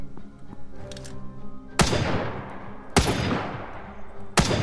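Three sharp, loud gunshots in The Front video game crack out about a second apart, each trailing off in a broad echoing decay, over quieter game background sounds.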